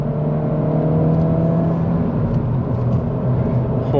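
A 2022 Honda Civic Si with a six-speed manual accelerates steadily, its engine and exhaust droning loud and close from inside the cabin, pitch rising gradually with no talk over it.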